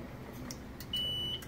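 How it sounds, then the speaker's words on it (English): A single sharp, high-pitched electronic beep sounds once, near and clear, over a quiet background hum. "But that device came into alarm again."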